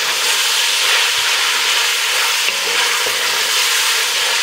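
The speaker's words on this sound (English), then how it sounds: "as you see the bacon starting to render down like that, and it's starting to firm up" Bacon frying and rendering down in a pan with cabbage nearby, giving a loud, continuous sizzle and hiss that holds steady throughout with no talking.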